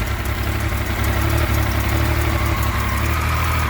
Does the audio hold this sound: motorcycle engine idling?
yes